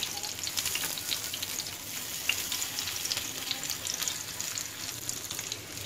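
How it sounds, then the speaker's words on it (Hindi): Masala potato tikka frying on a tava over medium-low flame, a continuous close sizzle with fine crackling pops and occasional soft turning sounds, no talking. "तो इसको हम मीडियम टू लो फ्लेम पर इसको फ्राई करेंगे, और इसको इस तरीके से रोटेट करते जाएंगे"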